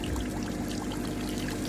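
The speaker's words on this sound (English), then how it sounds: "once that water starts flowing out there, you just let it keep going until there's no more water" Water rushing out of a swimming pool drain pipe while the pool is being closed, a steady, loud, close gushing pour with no pauses.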